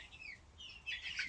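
Young chickens clucking and chirping close by in a pen, a few soft, short calls with a busier burst of chirps near the end.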